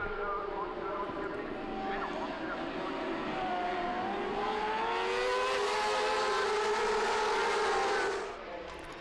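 Several 600cc race motorcycles at an FSBK round in Albi scream through the first chicane, their engine pitch sweeping up and down as they accelerate, loud and continuous with a commentator talking over them, then cutting off near the end.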